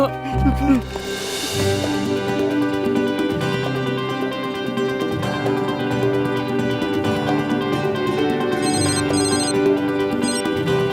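A telephone ringtone plays in a Hindi-dubbed Telugu film scene, steady and fairly loud over a backing music score, with a voice speaking briefly near the start.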